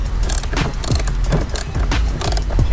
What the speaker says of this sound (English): I'm going to start with the 8mm bolts. And on this back corner here, I'm going to use the swivel.